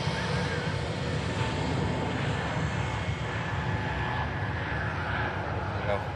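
An EasyJet airliner takes off from the runway on a short flight to Liverpool. Its loud, steady broadband jet roar holds without a break, with a windy rush layered over it.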